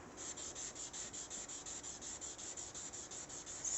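Sandpaper rubbed lightly over an undyed resin doll body in quick, even back-and-forth strokes, a close, soft, rhythmic scratching with no voices.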